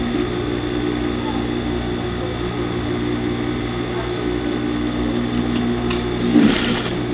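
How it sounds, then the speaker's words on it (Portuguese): A sewing machine stitches the edge of an Oxford fabric curtain, running as a steady continuous hum and whir at close range for the whole stretch, with a brief louder rustle near the end. "Então eu vou pregar aqui bem, vou costurar bem aqui na pontinha."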